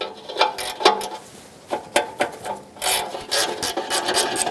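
A wrench works a rusty exhaust heat shield bolt on a 2012-2017 Toyota Camry, giving close rasping, grinding turns in short bursts with metallic clicks, no talking.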